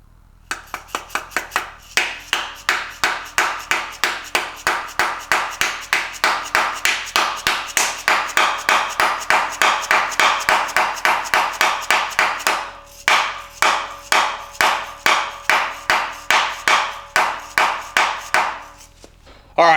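Repeated hammer blows drive a spacer plug into a PMC 2JZ-to-BMW ZF transmission adapter: a long, even rhythm of sharp metallic strikes, close and loud, with a short break before the steady whacking resumes.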